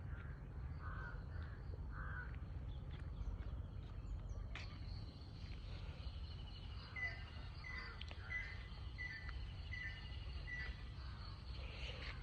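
Crows caw and other birds chirp in the distance against a steady outdoor background, with scattered calls repeating through the clip.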